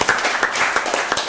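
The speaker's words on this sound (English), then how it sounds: "We can clap that up." Clapping from an audience at a Startup Grind fireside chat event in Tallahassee, a dense, steady patter of many hands at moderate loudness, continuous through the short stretch with no voices standing out.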